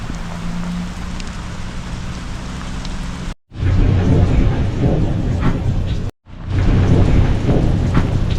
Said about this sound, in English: It's been thundering and lightning and absolutely pouring, hailing.